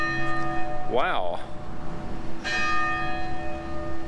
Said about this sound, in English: It's striking 2 o'clock.